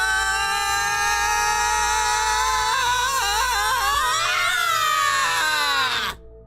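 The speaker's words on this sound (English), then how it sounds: "He ducks down and starts screaming." A sustained, piercing scream with a steady harmonic tone that wavers and bends in the middle, then cuts off abruptly near the end.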